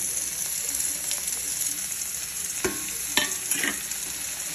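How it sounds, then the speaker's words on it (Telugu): Tomato, coriander and curry leaves drop into hot oil in a frying pan for a brinjal-tomato curry, giving a steady sizzle with a few sharp spatula scrapes and stirs near the end. "దీంట్లో నేను టమాటా, కొత్తిమీర, కరివేపాకు 3 వేస్తున్నాను."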